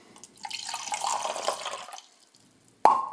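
Tap water runs softly for about two seconds as it is measured on scales for New York style pizza dough, then stops, and a sharp clink follows near the end.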